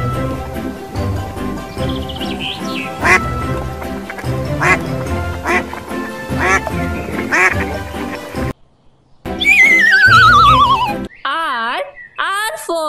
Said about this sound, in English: Q for quack